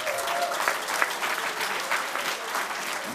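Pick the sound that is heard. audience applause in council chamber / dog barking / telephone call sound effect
audience applause in council chamber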